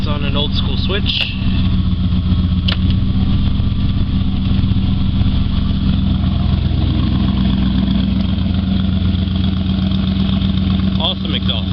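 A truck engine idles with a deep, loud, continuous exhaust rumble, close up and steady throughout, with someone talking over it.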